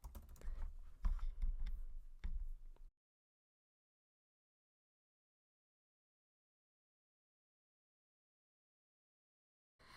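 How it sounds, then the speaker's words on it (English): Names being typed on a computer keyboard, a short burst of close, quick keystrokes that stops after about three seconds, followed by silence. "And I'm going to type in my kids' names."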